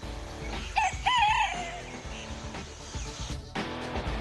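A rooster's crow used as a sound effect: one near, clear cock-a-doodle-doo rises and falls in the opening second and a half, set against a busy background hum.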